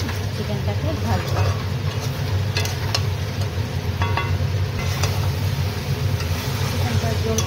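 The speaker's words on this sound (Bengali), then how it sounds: "এবার আমি ভালো করে মশলার সাথে চিকেনটাকে ভাজব।" Chicken pieces frying with spices in a kadai for kosa curry give a steady sizzle and occasional stirring scrapes, heard close under a person's talking.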